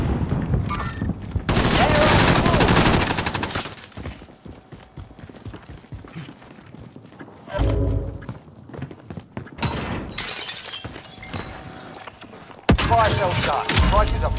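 Bursts of rapid gunfire in the video game Warzone come in several loud, close volleys separated by quieter stretches, with spoken radio voices and faint game sounds between the shots.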